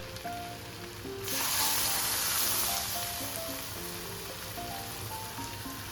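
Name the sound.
hot mustard-cumin-asafoetida tempering poured sizzling onto jackfruit curry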